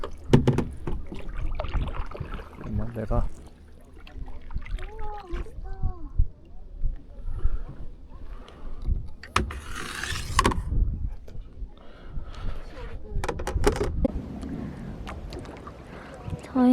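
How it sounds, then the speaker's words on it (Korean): A kayak paddles across Lake Louise in Banff, Canada, with soft water splashes and knocks from the paddle coming and going while people talk over them. "지금 카약을 타고 있습니다."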